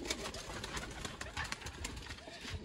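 Pigeons of the Lakha breed in a loft coo softly and continuously, a low murmuring under a dense, noisy background.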